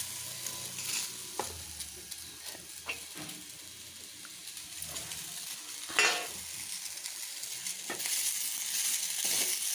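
Cluster beans stir-fry slowly over low heat in a pan, giving a soft continuous sizzle with repeated scraping and clinking of the spatula. One louder scrape stands out midway, and no one speaks.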